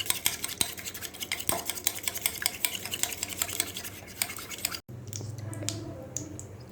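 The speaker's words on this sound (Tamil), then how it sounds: "ஃபோர்க்லேயே நம்ம பீட் பண்ணோம்னா நல்லா பீட் ஆகும்" Eggs being beaten with a fork in a bowl, a steady run of quick, close clicking strokes that keeps a brisk rhythm, breaks off briefly and then gives way to softer stirring, no voice.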